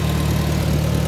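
A 1954 IH McCormick Farmall Super C tractor engine idles close by with a steady, low, even rumble and no breaks or speech.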